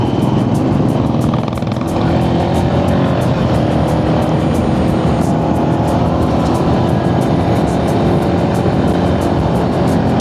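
Steady engine drone from a Bullet 500 motorcycle riding on a Himalayan mountain road, mixed with wind rush, loud and constant for the whole stretch.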